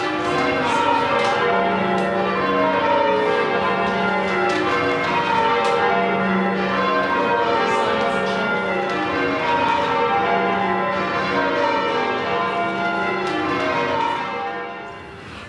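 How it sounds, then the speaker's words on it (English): Church bells pealing in a bell tower amid open fields and trees, a dense, sustained wash of overlapping rings with regular strikes, loud and close, fading slightly at the end with no talk. "There's no one around to hear the bells ring"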